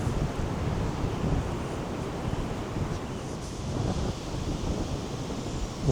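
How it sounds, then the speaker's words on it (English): Strong wind roars steadily across the microphone on a walk near a church and through woods in Fife, a broad continuous rush with gusty swells and no voices. "It's very windy."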